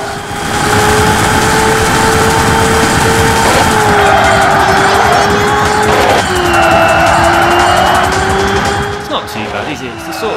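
In the racing video game Xenon Racer, a car engine whines at a steady high pitch, shifting and dipping with gear changes, while tires squeal loudly in the foreground and a voice talks over it.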